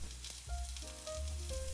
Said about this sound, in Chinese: 蘑菇经过油煎上色会有特别的鲜味